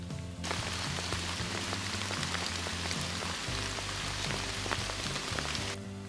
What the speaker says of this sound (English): Because when it's raining